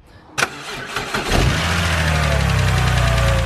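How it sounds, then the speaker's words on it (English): A BMW N52 engine with a failing starter motor cranks with an audible click and sluggish starter whirr for about a second before catching and settling into a steady idle. "my starter motor kind of sounds like it's on its way out"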